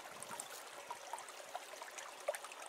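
Filtered water trickles steadily from a Liberty Lifesaver survival water filter with soft, continuous splashing and occasional small drips, faint and close, with no voices.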